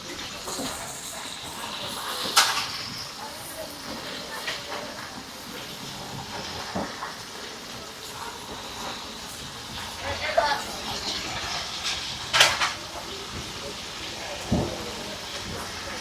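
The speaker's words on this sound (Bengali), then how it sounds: "দেখতে পাচ্ছেন যে আমাদের লবস্টার কিন্তু অলরেডি টকবক টকবক করে ফুটতেছে।" A lobster boils in a pot at an outdoor seafood barbecue and fry stall on Saint Martin's Island, giving a continuous rain-like bubbling hiss with occasional sharp pops, and faint voices sit in the background.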